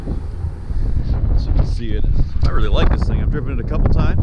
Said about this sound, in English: Excuse the wind out here. It's a little breezy out today